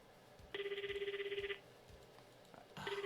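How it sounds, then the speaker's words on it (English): A telephone in the video game Renai Bakudan rings in two electronic trills, each about a second long, separated by a pause; the ringing is fairly faint with nothing else behind it. "listening to the dial tone ring and ring and ring"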